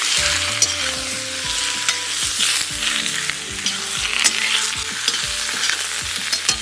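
Food frying in oil in a kazan over a campfire, browning toward a golden crust: a loud, continuous close sizzle and crackle with scattered sharp pops, with no voices.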